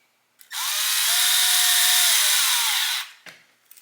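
A small power driver tightens a screw on a Vanquish VS4-10 Phoenix RC car chassis during the links and axles install, one steady close whir lasting about two and a half seconds, then a faint click.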